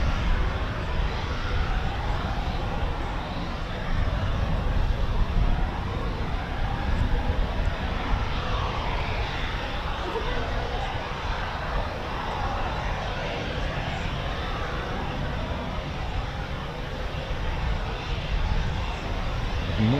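A Eurofighter Typhoon FGR4 makes a performance takeoff at RAF Coningsby at night, a broad sustained jet roar that holds loud and steady for the whole stretch, without distinct pauses.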